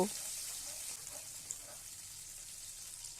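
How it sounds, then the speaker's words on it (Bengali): Mustard paste masala frying gently over a low flame in a pan, giving a quiet, steady hiss that stays soft and even throughout with no talking. "লো ফ্লেমে মশলাটা 1 মিনিট নেড়েচেড়ে খুব ভালো করে ভেজে নেব"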